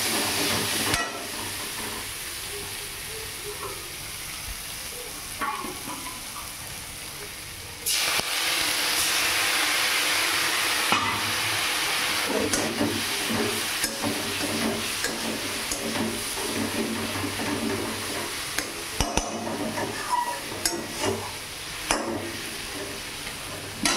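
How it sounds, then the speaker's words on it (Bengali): Fried onions sautéed in oil for a loti chingri dish, a steady loud hiss and sizzle with occasional stirring scrapes, louder after the first few seconds and running continuously with no talking. "পেঁয়াজ ভাজাটা দিয়ে আমি এবার ভালো করে কষিয়ে নেব।"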